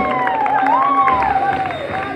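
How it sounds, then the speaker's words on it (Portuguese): Crowd applauding and cheering for a clown acting as referee in a comic boxing sketch, a steady wash of clapping and voices with a loud voice over the top. "Aplausos para o nosso juiz"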